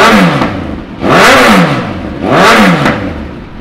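A 2016 Suzuki GSX-S1000 ABS motorcycle engine, warm, is revved hard twice, each blip rising loud and close before falling back to a lumpy idle.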